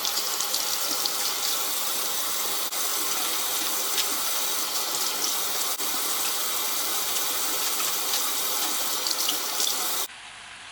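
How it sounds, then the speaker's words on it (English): Whole lettuces being rinsed under a running kitchen tap, with a steady, loud rush of water that continues without a break and drops away abruptly near the end. "So I'm going to go ahead and wash these whole lettuces and then just set them on the side to dry."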